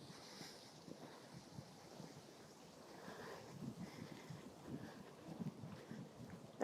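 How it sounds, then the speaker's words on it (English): A breeze buffets the microphone at an outdoor riverside park promenade, giving a low, uneven rumble with soft gusts and faint background ambience throughout. "There's a nice breeze going on, but it might be picked up by the mic, so you might hear a bit of that."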